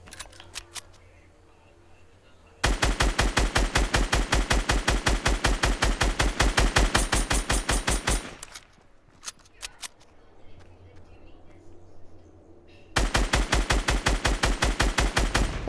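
Rapid bursts of automatic gunfire from a shooter video game, two long sustained volleys separated by a short pause with a few scattered single shots, loud and close with no talking.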